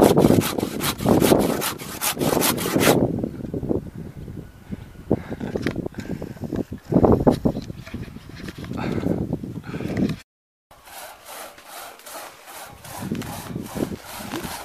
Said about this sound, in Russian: Вот, смотри, ветка, вот какую я пилю.